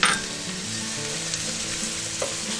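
Onion browning in a pan with oregano, a close, even sizzle with a brief scrape of stirring near the start and end, no talking.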